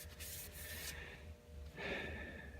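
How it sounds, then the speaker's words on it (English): A paper towel rubs along the steel blade of a combination square in two steady swipes, a soft continuous close-up rasp with a short dip between strokes and no voices. "Just wiping our paper towel"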